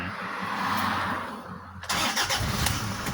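A Toyota Vigo Prerunner pickup engine cranks and catches partway through after a quiet hum, then settles into a close, rough idle with uneven pulses.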